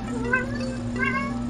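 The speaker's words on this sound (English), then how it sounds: "And that would be Sorbet meowing" A cat gives a couple of short, close meows over a steady low hum.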